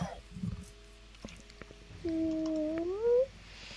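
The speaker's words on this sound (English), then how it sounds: "I love how there was just a cat on her." A cat meows during a tabletop Dungeons & Dragons session, one long rising cry close to the microphone, following a stretch of quieter voices and small room noises.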